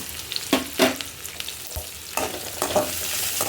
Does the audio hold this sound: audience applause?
no